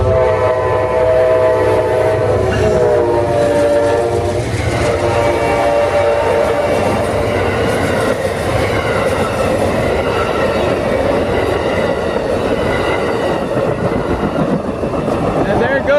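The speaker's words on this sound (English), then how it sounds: "Goes Amtrak train 91. No, shoot, 92 to Tampa." Amtrak passenger train 92 bound for Tampa passes a road crossing close by, loud and steady throughout, with a sustained horn blast early on and rumbling, clattering wheels on the rails.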